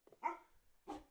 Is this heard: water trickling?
no